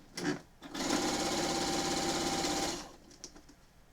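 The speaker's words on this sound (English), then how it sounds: "I'm going to sew the left and the right and the bottom" A sewing machine runs one steady burst of fast stitching along the edges of a homemade weighted blanket, close and fairly loud, with brief handling clatter before and after.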